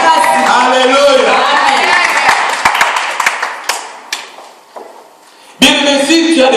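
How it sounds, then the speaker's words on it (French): A church congregation cheers and acclaims God with loud bursts of clapping and shouting. The noise dips for a moment, then surges back strongly, while a preacher speaks over it. "Acclamez plus fort pour notre Dieu."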